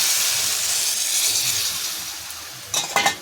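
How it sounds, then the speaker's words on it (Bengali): Water poured from a bowl into a hot pan of pumpkin, potato and drumstick curry hisses steadily with a broad steamy rush, followed by a few sharp clinks near the end. "এখানে দিয়ে দেবো 1 বাটি জল।"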